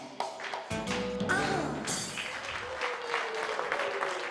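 Audience applause breaks out during an Italian live music show, a dense, steady clatter of clapping mixed with crowd noise and some lingering instrumental tones at the start.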